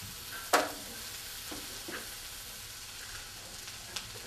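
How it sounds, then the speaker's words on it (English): Onions, green pepper and zucchini sautéing in a pan, a steady low sizzle with a sharp clack of vegetables going in early and a few soft stirring scrapes, close and without talk. "My onions are starting to smell good, so I'm going to put my pepper in there, and I'll put my zucchini in there too."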